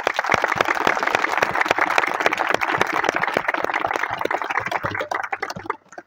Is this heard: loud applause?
yes